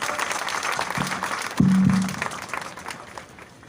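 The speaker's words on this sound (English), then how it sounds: "Please give him a big round of applause," An audience at a Rotary rain run prize distribution in Goa claps for a police chief. Steady applause fills the clip, a brief low hum cuts in midway, and the clapping thins out near the end.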